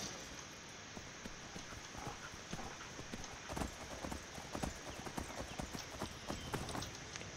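Steady clip-clop of horse hooves at a brisk trot in the video game Skyrim, continuous and fairly close, with a faint ambient hum behind it.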